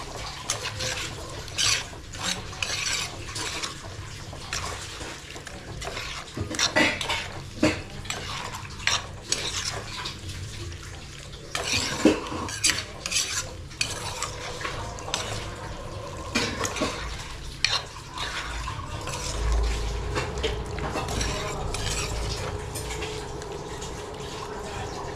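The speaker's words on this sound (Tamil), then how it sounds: "ஸோ இந்த மசாலாவோட இந்த இறாலை நல்லா கிளறி வச்சுக்கலாம்." Prawns being stirred with masala in a pan: a spoon scrapes and knocks against the metal pan repeatedly in an irregular rhythm, close, over a faint sizzle and background hum, without talk.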